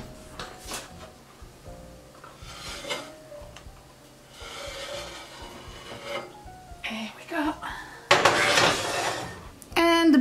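A baking pan of buttermilk biscuits slides out of a hot oven with metallic scraping and clatter, a loud rattling burst near the end, amid kitchen handling sounds.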